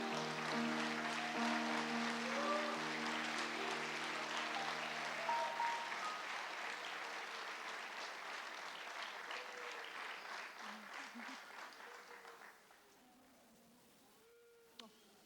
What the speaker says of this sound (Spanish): yo quiero que todos ustedes le den una bienvenida con un caloroso aplauso